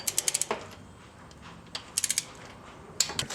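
A ratchet tightens engine bolts on a VW Passat 2.8L during a timing belt job, giving three close bursts of rapid clicking separated by quiet pauses, with no talk.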